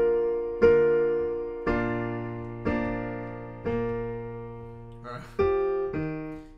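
Piano chords playing the closing phrase of The Star Spangled Banner, six struck chords spaced about a second apart with each left to ring and decay, clear and close with no talk.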